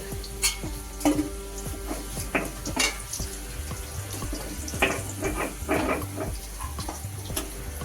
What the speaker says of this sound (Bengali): আলুগুলো লাল লাল করে ভাজা হয়ে গেছে